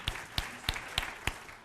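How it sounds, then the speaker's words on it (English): A few hands clap slowly on a podcast, five evenly spaced, sharp but quiet claps with no crowd behind them. "Sean, a round of applause there"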